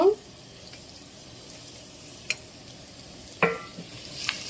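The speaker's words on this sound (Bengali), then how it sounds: "ওই তেলের ভিতরে দিয়ে দিলাম কাঁচামরিচ দিয়ে দিব" Green chillies frying in hot oil for fried rice give a quiet, steady sizzle, broken by two or three brief clattering spatula strokes against the pan.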